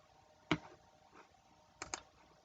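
Computer mouse clicks, one sharp click followed by a quick double click, close and soft in a quiet room.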